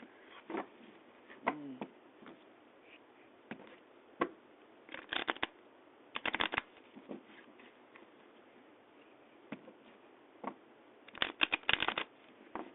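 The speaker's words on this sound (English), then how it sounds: "I haven't used this deck for a long time, so I kind of gotta shuffle it a little bit." A deck of tarot-style cards is shuffled by hand in a quiet room, giving repeated short riffling bursts and soft slaps at irregular intervals, close and fairly faint.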